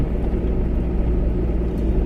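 A car cruising in fourth gear at 60 in general traffic, heard from inside as a steady, continuous low engine and road rumble with no pauses.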